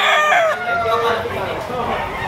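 A bulik gamefowl rooster gives one loud, close crow lasting about two seconds, rising and then trailing off.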